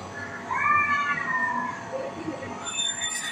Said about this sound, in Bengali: কতগুলো বিড়াল মিয়াও মিয়াও করছে